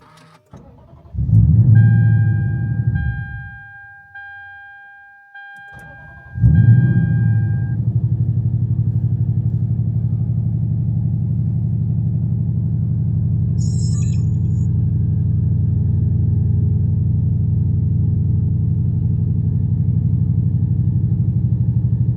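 Supercharged Lexus IS F engine cranks twice, catches and settles into a steady, loud, deep idle rumble that holds close-up and unbroken for the rest of the clip.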